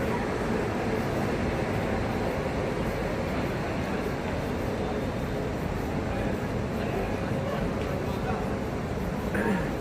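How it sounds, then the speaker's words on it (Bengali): A full train rumbles into Sambalpur railway station with a steady, dense roar of wheels and carriages, continuous and loud across the whole stretch. "পুরো ট্রেন ঢুকছে"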